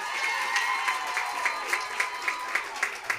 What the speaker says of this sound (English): Let's give them another hand of applause.